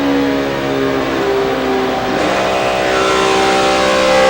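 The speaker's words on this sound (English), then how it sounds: "Just listen to that throttle and how he's working it" A NASCAR stock car engine howls at full throttle during the 2012 Quicken Loans 400 at Michigan, a loud, sustained high-pitched drone with shifting harmonic tones as the car stays wide open, filling the whole stretch with no talk.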